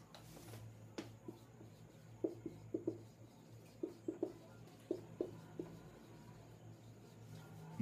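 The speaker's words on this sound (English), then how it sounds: "Let me just write it clear for you." A pen scratches out short written strokes in a quiet room, with soft, close, irregular ticks and taps spaced across a few seconds and no talking.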